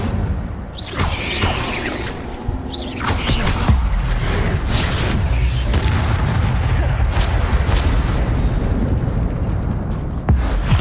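The Incendio fire spell is cast in Hogwarts Legacy: a sustained, loud roaring whoosh of flame with rumbling, crackling bursts, continuous over game ambience.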